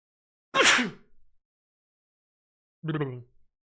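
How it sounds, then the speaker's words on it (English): One sharp, explosive sneeze bursts out, then silence, followed by a brief vocal sound a couple of seconds later. "I have to sneeze."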